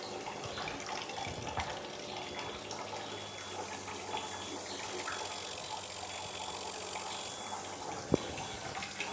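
An Enagic Kangen machine dispenses 11.5 pH alkaline water at a reduced flow, giving a steady running-water stream throughout with a soft background hiss and a sharp click near the end.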